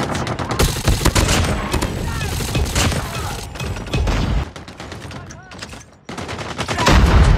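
Multiplayer shooter match with sustained rapid machine-gun fire and repeated gunshots, loud and close, broken by a few heavy thumps from a frag grenade blast amid the firefight.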